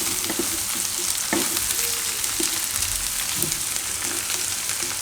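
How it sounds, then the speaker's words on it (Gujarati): Gram flour roasting in hot oil in a pan for okra gravy gives a dense, continuous sizzle with occasional faint scrapes of stirring, close and steady throughout with no voices. "આ રીતે ગરમ ગરમ હશે એટલે તેલમાં શેકાઈ જાય લોટ આપણે"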